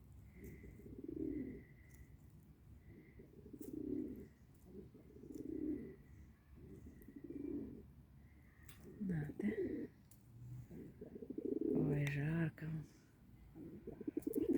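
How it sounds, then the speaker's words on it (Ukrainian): Pigeons coo in a park in Zhytomyr, with soft repeated low calls coming in a loose rhythm, close by. Someone talks over and between the calls, and other birds chirp faintly. "Ці ще прийшли голубі."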